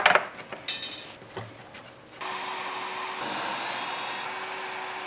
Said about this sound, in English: now our router is gonna go from here to here